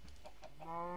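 Chicken clucking in a Minecraft-style video game, a few short clucks followed by a longer sustained call, close and clear with no talk.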